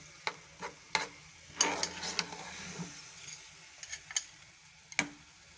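Besan halwa with egg, milk and sugar is stirred in a pan, the spoon giving scattered scraping clicks and taps over a faint sizzle, close and irregular.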